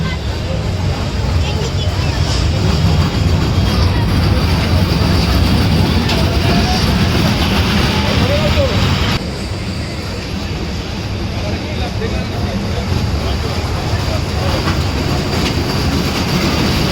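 A kiddie train ride at an amusement park runs nearby with a steady rumble and rattling wheel noise, and voices talk over it.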